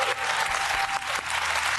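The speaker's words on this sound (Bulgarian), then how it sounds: "Много силни аплодисменти, дами и господа!" A large studio audience on the Bulgarian TV quiz show Who Wants to Be a Millionaire applauding steadily, dense sustained clapping that fills the room for the whole stretch, loud and even.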